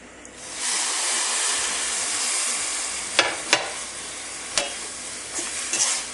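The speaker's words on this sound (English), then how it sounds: "So just stir it around, and then you think it's dry, add a little bit more" Semolina for uppuma stirred in a hot pan, a steady broadband sizzle and hiss with a few sharper scraping clicks of the spoon toward the end; no talking.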